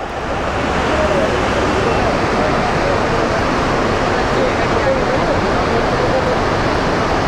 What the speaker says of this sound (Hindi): इस वजह से पानी का बहाव बहुत तेज है